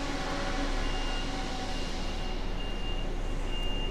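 An HGV truck shunts into position inside a building in the UK, a loud steady engine drone with faint high reversing beeps over it and no voices.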